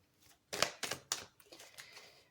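A deck of tarot cards is shuffled close up, a few quick papery riffles and flicks in short bursts, then softer fluttering.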